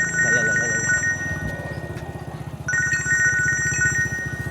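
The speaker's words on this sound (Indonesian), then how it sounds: "Saya mau terima telepon dulu sebentar ya." A telephone ringtone plays in two loud melodic bursts with a short gap between them, while a person speaks over the ringing.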